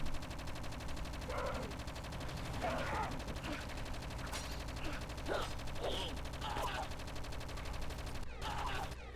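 Gunfire in the Project Eden video game comes in short bursts scattered across a busy, steady game soundscape, with mechanical clanks and creaks mixed in and a sharp crack near the end.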